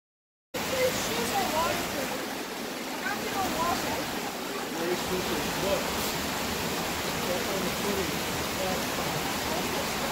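Zapata Falls in Colorado, a waterfall reached by trail, roars as a steady broad rush of falling water, loud and continuous throughout.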